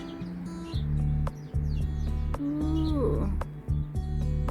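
A small bird chirps and tweets while eating nuts indoors, its bright calls riding over a steady low hum, with a brief spoken exclamation partway through.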